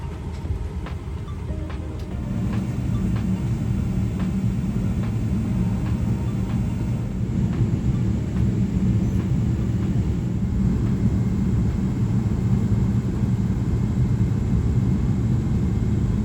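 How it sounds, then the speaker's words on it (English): Low, steady engine rumble inside a China Airlines Boeing 777 during pushback and taxiing, a droning hum that builds slightly after the first seconds and holds, with faint rattles and no talk. "it's time for pushback and to make our way down to Taipei"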